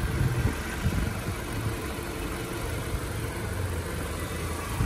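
A 2016 Jeep Compass Latitude 4x4 with a 2.4-liter four-cylinder engine idles steadily, a low continuous hum with a faint ticking texture and no talk over it.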